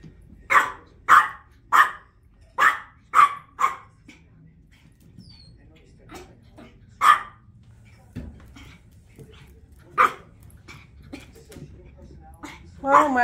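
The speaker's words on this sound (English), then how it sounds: "Bark at her, Lewis." A puppy barks repeatedly at a grey pet bird, a run of sharp close barks at the start, then scattered single barks and yips, with a person talking over and between them.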